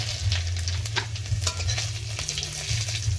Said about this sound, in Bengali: এই তেলের মধ্যে একটু পাঁচ ফোড়ন শুকনো লঙ্কা তেজপাতা